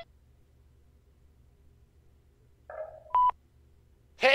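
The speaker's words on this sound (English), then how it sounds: "We can let the answering machine pick it up." Phone-line tones in Façade as an answering machine picks up: a short warbling chirp, then a steady beep, followed by a bright electronic tone at the end over near silence.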